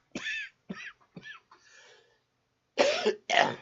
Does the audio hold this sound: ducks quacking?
no